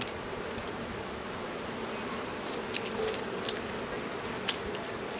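Honey bees buzz around an open hive as frames are lifted out, a steady, soft, continuous drone with a few brief sharper buzzes of individual bees passing close.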